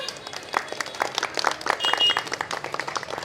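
A crowd at a Kaushiki Amavasya puja celebration claps in uneven bursts, individual hand claps standing out as the applause swells toward the middle and then thins into scattered claps.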